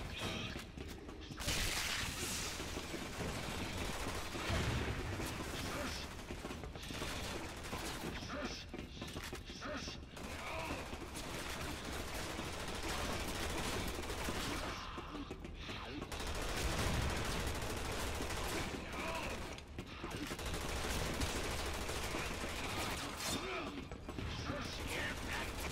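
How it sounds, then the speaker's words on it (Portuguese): Rapid bursts of gunfire in the video game Resident Evil 6, set inside a submarine, crackle in repeated volleys, mixed with mechanical clicks and rattles, loud and continuous throughout with brief gaps between salvos. "Tiro pra tudo quanto é lado."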